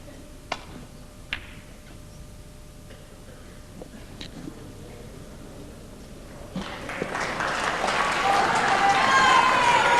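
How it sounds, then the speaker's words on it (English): Applause from the audience at the 1997 Snooker Masters breaks out in the last few seconds and builds quickly to a loud, sustained clapping, after a hushed arena with a few soft clicks and knocks. "a round of applause"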